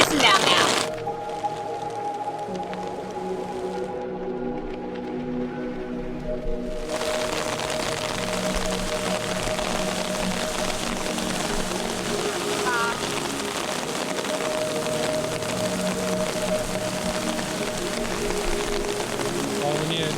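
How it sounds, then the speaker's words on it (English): Heavy rain pours down in a constant rushing hiss, with a sharp crack near the start and faint tonal hum underneath. "Pissing down now."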